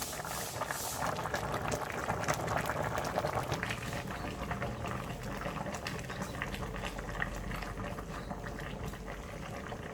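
Pork leg stewing in Coke bubbles steadily in a pot, a continuous close simmering burble with soft popping, unbroken for the whole stretch and free of any talking.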